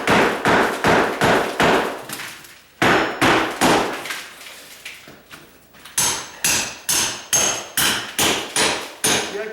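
A hammer beats down on a mortar counter sub base to break it into chunks, landing as a rapid series of loud, sharp strikes in bursts with short pauses between them.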